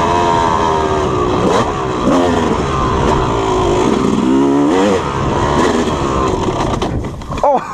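A Yamaha YZ250 two-stroke motocross bike, motocross edition, revving close by, its rough engine note rising and falling through several throttle blips before cutting off abruptly at the end.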